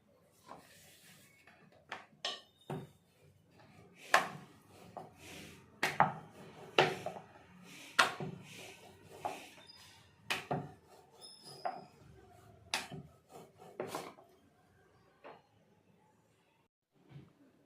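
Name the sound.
rolling out chapati dough on a board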